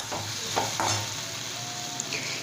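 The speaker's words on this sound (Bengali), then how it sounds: "তারপরে আবার ঢাকনা খুলে নিয়ে খানিকক্ষণ কষিয়ে নিতে হবে" Boiled potatoes fry in a pan for aloo posto, a steady close sizzle with a few soft scraping stirs of a spoon against the pan.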